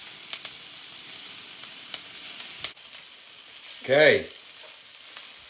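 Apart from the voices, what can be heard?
mixing hosta buds frying in a pan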